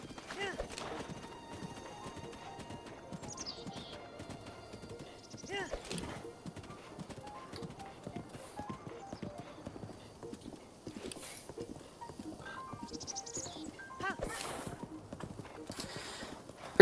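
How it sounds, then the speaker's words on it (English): A horse in the video game Zelda: Breath of the Wild galloping with a steady rhythmic clip-clop and whinnying now and then, heard under someone talking. "I don't know why I'm riding my horse all the way there."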